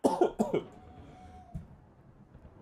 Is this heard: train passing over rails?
no